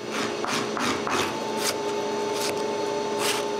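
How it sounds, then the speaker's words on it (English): Hand sanding small wooden rings, a dense scratchy rasp in repeated back-and-forth strokes, steady and close, without any voices. "Each one needs a lot of hand sanding."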